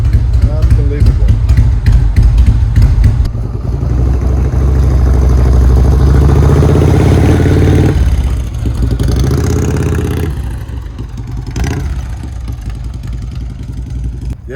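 An old vehicle engine running again after 40 years, a loud, close, steady low rumble with rough clattering, briefly revving, while people talk over it.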